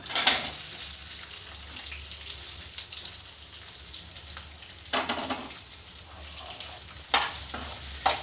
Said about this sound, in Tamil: நல்லா வந்து பொன்னிறமாக வதங்கட்டும்